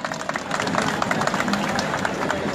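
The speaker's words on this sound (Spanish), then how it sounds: "También pedimos un fuerte aplauso para él." A crowd at a public ceremony in a park in La Romana applauds a parish priest, giving dense, steady clapping that fills the whole short stretch at close range.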